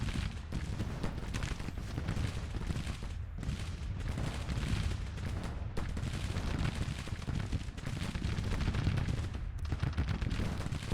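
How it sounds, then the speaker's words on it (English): Rifle volleys from Confederate soldiers of the Georgia Loyalists, heard in Grand Tactician: The Civil War. A dense, unbroken crackle of musketry mixed with deeper booms carries on loudly for the whole stretch, with no voices. "Now we got the Georgia Loyalists firing overhead."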